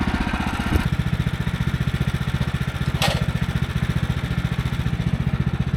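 Small portable sawmill running steadily with a pulsing engine drone, cutting notches into a log on its side; a couple of brief sharp clatters break through the continuous machine noise, with no talking.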